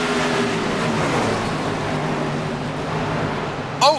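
Stock cars in a sim racing league race, the AdvoCare Southern 300, roar as a pack accelerating after a green flag restart, a dense, steady engine drone with a short sharp burst near the end.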